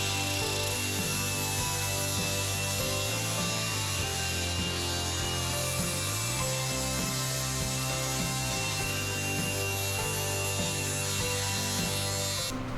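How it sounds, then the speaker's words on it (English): An angle grinder squaring and flattening the cut end of a pipe, running steadily for the whole stretch as a loud, continuous whine with a shifting tone and no talk over it. "I'm just going to take the grinder and grind that so it's square and flat"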